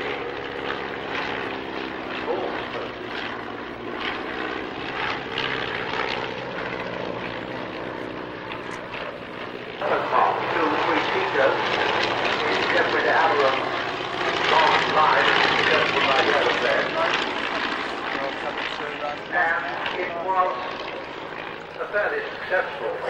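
A vintage cabin biplane flies at an airshow, its propeller engine droning steadily and growing louder and nearer partway through, while a commentator talks over it throughout.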